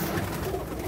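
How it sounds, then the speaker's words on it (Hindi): Pigeons on a rooftop give a brief, soft coo over a steady hum of outdoor background noise. "कबूतर शबूतर भी काफ़ी छोड़े हुए हैं"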